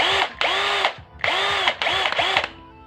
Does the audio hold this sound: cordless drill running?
yes